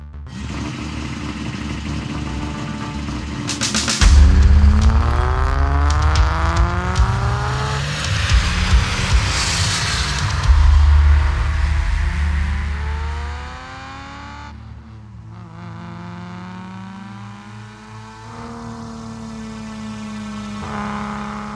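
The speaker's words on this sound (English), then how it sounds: "get behind the wheel of a front-engine, water-cooled Japanese import car with a lot of shared DNA" Front-engine, water-cooled Japanese import car accelerating hard, engine note climbing through repeated revving sweeps with gear changes, loud and close, easing off near the middle and then building again.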